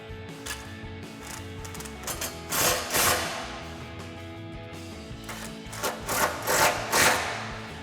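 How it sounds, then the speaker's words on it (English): A socket wrench snugs down an exhaust mount on a 2021–2024 Ford Bronco, with quick ratcheting clicks in a few short bursts over a low steady hum and no talking. "we'll grab our 10 millimeter socket and tighten down our mount"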